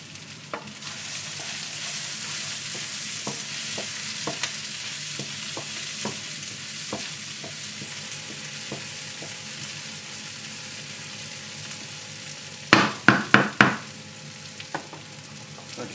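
Yaki udon with pork sizzles steadily in a hot pan while being stirred, with scattered light utensil taps throughout and a brief cluster of louder clanks near the end.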